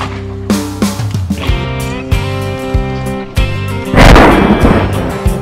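Shotguns fire during a goose hunt, several loud booming blasts in quick succession, close by, with echoing tails and a burst of overlapping shots near the end; music plays underneath.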